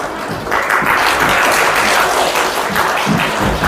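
Loud congregational applause fills a church during a Christmas service, a thick sustained roar of clapping that swells after a quieter start and stays strong.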